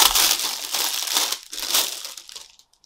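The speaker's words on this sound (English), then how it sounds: "there's going to be lots of rustling" Plastic packaging and freshly unboxed items rustle and crinkle continuously in close, loud bursts, with a brief lull near the middle, then fade to quiet at the end.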